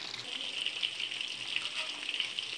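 Breaded chicken chunks sizzle steadily in hot oil, a dense continuous crackle and hiss that stays even and fairly soft throughout, with no pauses.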